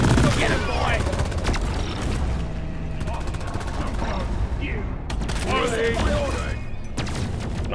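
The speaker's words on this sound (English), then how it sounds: "Sentry gun! Go get him, boy!" Automated sentry gun in the co-op mining shooter Deep Rock Galactic rattles off dense bursts of rapid fire amid a busy cave battle, with voices calling out over the din.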